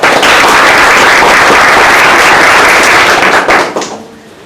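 A loud, thick wash of crowd applause at a school debate competition in Lima keeps up at full strength, then fades quickly in the last second.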